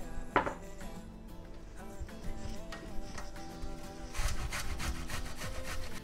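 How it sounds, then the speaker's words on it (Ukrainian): An onion scraped against a metal grater rasps in repeated rough strokes, quiet and close, with a denser run of grating toward the end and a light clink near the start. "Натерли нашу цибульку"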